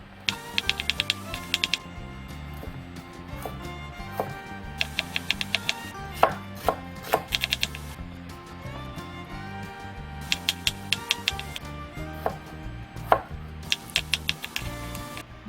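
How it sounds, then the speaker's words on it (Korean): Quick bursts of a knife chopping cucumber and mushrooms on a cutting board for sweet and sour pork, several rapid series of sharp taps with pauses between, over a low steady background. "오이버섯도 적당한 크기로 썰어주면 됩니다"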